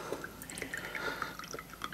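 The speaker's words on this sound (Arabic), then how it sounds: "طب يلا صبي لي ميه انا كمان." Water trickles and drips from a toy water cooler in a children's play area, faint and steady for about two seconds.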